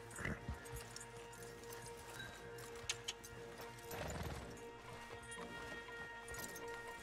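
Horses shift and step in a Red Dead Redemption 2 stable, scattered hoof clops with a brief whinny-like burst midway, faint beneath a low steady game ambience and background music.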